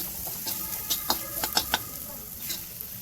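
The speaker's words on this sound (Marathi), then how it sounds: "आता हे व्यवस्थित मिक्स करून घ्यायचे आपल्याला" A spoon stirs chili powder and two spoons of coriander powder in a cooking pan for a wild vegetable dish, making faint scraping clicks over a soft sizzle, close but quiet with no talking.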